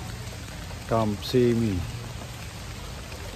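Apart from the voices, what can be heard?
continuous rain falling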